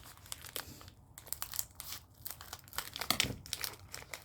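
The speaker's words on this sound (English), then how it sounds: "Let me get a pair of scissors to open the package." Crinkly plastic rustling and snipping as scissors open a package of sugar-coated violet bonbons, with small crunches, close and fairly quiet, continuing unevenly for several seconds without any talking.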